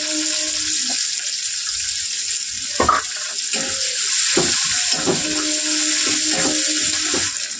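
Chopped onions and bay leaves frying in hot oil with whole cumin for a banana-flower and prawn curry: a continuous close hiss of sizzling broken by spatula scrapes and clinks.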